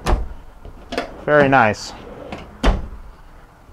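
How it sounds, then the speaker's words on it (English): Storage drawers slide open and shut inside a 2015 Itasca Sunstar 30T motorhome, giving a few short knocks and rumbles spread over several seconds while someone briefly speaks. "Look at these drawers coming all the way out"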